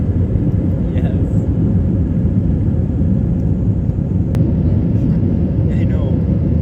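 Inside an airliner cabin as the plane takes off and climbs, a steady, heavy engine rumble and rushing drone fill everything, with people chatting faintly beneath it.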